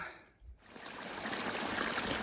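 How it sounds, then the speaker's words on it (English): Water trickling and splashing steadily from a small spring with a little drop-off at a trail shelter in the Smokies, close and continuous after a brief quiet start. "So you got a nice tight spring kind of set up where you got a little drop off where you can catch the water"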